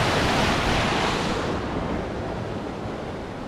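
Flooded brook in northern Vermont after heavy rain, a dense, steady roar of rushing water close by, loud and unbroken with no talking.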